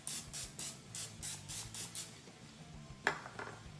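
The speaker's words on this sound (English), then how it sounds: "I will spray some cooking spray on" Cooking spray hisses into a small 1.5 liter baking dish in seven short, even bursts, close and clear, followed by a single light clink of the can or dish.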